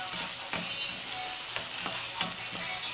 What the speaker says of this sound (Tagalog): igisa lang muna natin siya hanggang lumambot